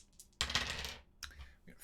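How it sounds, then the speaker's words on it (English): Two dice re-rolled during a solo tabletop game of Twin Stars, a short burst of clattering tumbles across a surface followed by a couple of lighter knocks as they settle. "We've made a combo, so we're going to take both dice back and re-roll."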